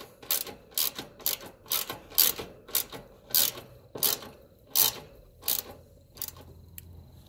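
Tightening a capacitor bracket on a heat pump, heard alone as a series of about a dozen sharp, evenly spaced ratcheting clicks close to the microphone with short pauses between them.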